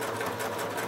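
A sewing machine stitches lengthwise along interfaced fabric handles for a zippered cloth bread basket, a steady close, continuous whirring hum with fast regular needle rhythm throughout.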